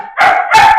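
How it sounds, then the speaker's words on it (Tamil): A dog at a house barks twice in quick succession during a guest prank; both barks are loud, close and sharp, with no talking over them. "நாய் தான்மா அது"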